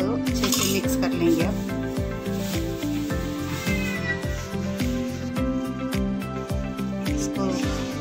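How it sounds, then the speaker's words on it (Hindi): Chicken kebab marinade with cornflour and red food colour being mixed in a bowl, close rhythmic scraping and clinking of a utensil against the dish, steady and repeated under a background hum. "इसको पूरा मिक्स करके थोड़ी देर हम इसको भीगने के लिए छोड़ देंगे"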